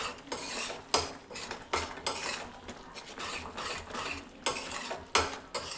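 Kasuri methi stirred in a pan with a metal spatula, steady scraping strokes repeating about every second over a soft, continuous sizzle of frying.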